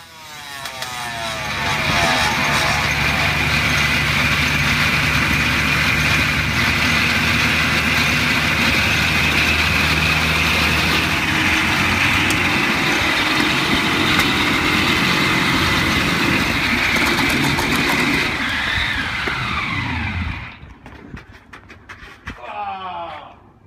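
A homemade 48-cylinder motorcycle engine runs loud and steady, a smooth dense roar held for about twenty seconds before cutting off into quieter, uneven sputtering at the end.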